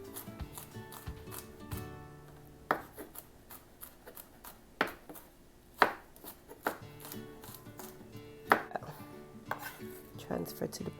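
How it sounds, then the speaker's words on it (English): A knife chops fresh garlic on a board for a budget chicken soup, with irregular sharp knocks and taps spaced a second or so apart over quiet kitchen background, no talking. "I'm going to go ahead and just chop our garlic"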